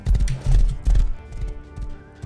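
Horses in the video game Rust clip-clop close by in quick, uneven bursts of hoof strikes, loud against a quiet background.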